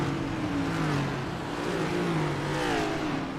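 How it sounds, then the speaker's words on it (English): Race car engines idle and rev steadily at Daytona before a 90-lap season opener, a continuous loud drone with shifting pitch and no voices. "You can hear these cars fired up, ready to go for 90 laps here at Daytona."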